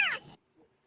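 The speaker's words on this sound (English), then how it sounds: "We've got video of your kitten." A kitten lets out a single short, high meow, close and clear, followed by near silence with a faint low noise.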